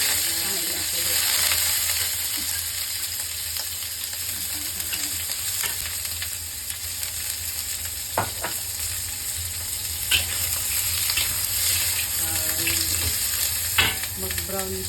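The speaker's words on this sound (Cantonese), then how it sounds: "燒熱啲着鑊啦，就擠排骨去爆香佢。" Pork ribs sizzle and fry in hot oil in a wok, a steady crackling hiss with scattered clacks of stirring and scraping over nearly fifteen seconds, with occasional quiet voices.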